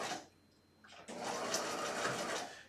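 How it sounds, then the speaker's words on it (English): Sewing machine running steadily as it back tacks horsehair braid onto the hem of an outer skirt, a continuous whirring hum that starts after a brief pause and holds for about two seconds, close and alone. "So go ahead and back tack it on,"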